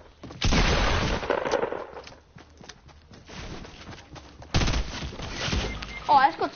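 Sniper shots in Fortnite: two sharp, loud blasts about four seconds apart, each trailing into a noisy decay, with someone talking over the game sounds.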